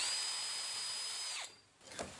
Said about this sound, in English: Next I need to drill the hole for the pipe to go in on all these guys.